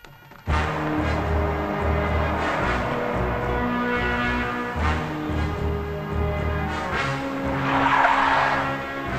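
Car tires skidding in a road accident on a busy traffic route, a loud sustained screech and roar running almost the whole stretch, swelling again near the end, with no talk over it.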